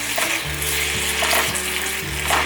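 Lotus root braising over low heat in a pan for a vegan home-style dish, giving a steady close sizzle with soft stirring scrapes recurring every half second or so.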